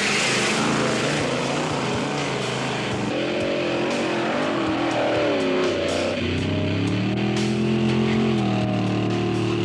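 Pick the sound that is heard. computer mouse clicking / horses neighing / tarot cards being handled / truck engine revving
truck engine revving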